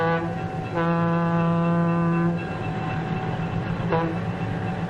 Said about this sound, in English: The huge locomotive sets the train in motion, slowly at first